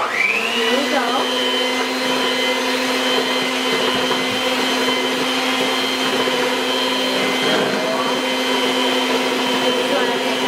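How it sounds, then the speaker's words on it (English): Electric mixer whipping six large egg whites on low speed toward soft peaks for a tres leches cake, a steady, close whirring motor hum that runs unchanged and alone throughout. "we are gonna use our mixer in a low speed until we make soft"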